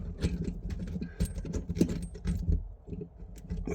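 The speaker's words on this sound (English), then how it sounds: "So we'll screw that in by hand first." Small metal clicks and light scraping come from a tap part being screwed in by hand, with irregular taps and jangles close to the microphone at moderate volume.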